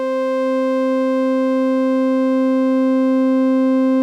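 A sine wave blended with its full-rectified copy through a Mutable Instruments Kinks module, giving a sustained, rich harmonic drone with a clear low fundamental and octave above, holding steady and loud throughout.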